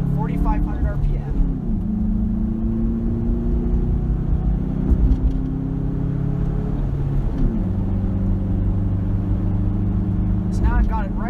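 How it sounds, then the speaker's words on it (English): A car with a manual transmission accelerates hard onto a freeway, its engine droning steadily and climbing through gears with a shift partway, heard from inside the cabin. "I'm going to be accelerating fairly rigorously to get on the freeway."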